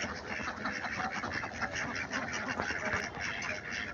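Ducks on a farm of several hundred birds quack in a dense, continuous chorus, many overlapping calls at moderate distance with no voices.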